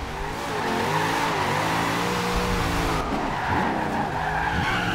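Video game car tires skidding and squealing through a drift with the handbrake pulled, a continuous loud screech with wavering pitch over a revving engine, lasting the whole stretch.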